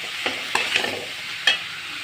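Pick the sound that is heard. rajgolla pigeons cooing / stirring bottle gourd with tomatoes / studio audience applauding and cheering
stirring bottle gourd with tomatoes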